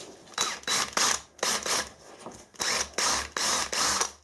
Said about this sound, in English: A cordless drill is the weapon of choice.